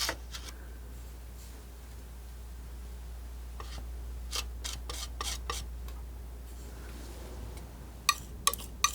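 A palette knife scrubs peach oil paint onto canvas in a soft, continuous rasping rub, with several sharper taps and scrapes later on. It is close and fairly quiet over a low steady hum.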